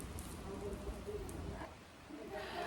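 Rain falls steadily outside a village home during several days of stormy, windy weather, a faint, even patter with no break.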